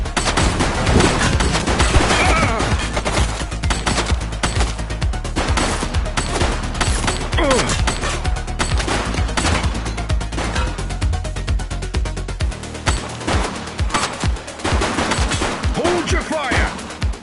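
Dense, continuous video game gunfire from The Precinct, a police action game, with rapid overlapping shots and bursts. The firing stays loud throughout and thins into separate shots near the end, with raised voices shouting over it.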